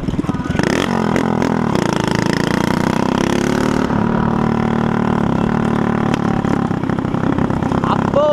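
A motorcycle engine with a broken exhaust roars loud and raw, revving up and holding a rough, blaring drone up close for several seconds, with no talking.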